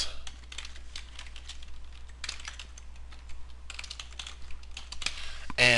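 Typing an email address on a computer keyboard, a run of close, quick key clicks in uneven bursts, with a louder clatter at the end.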